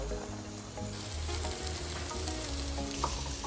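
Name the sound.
onions frying in coconut oil for chicken curry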